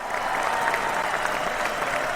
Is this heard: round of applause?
yes